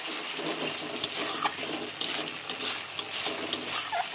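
Spice paste with coriander leaves being stir-fried in a pan for a fish curry, a steady close sizzle broken by regular sharp scrapes and clinks of a spatula against the metal, with no talking.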